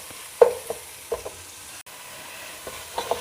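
Ginger and garlic fry in hot oil with whole spices, a low steady sizzle broken by a few soft stirring scrapes and clinks, close and fairly quiet, with no voices.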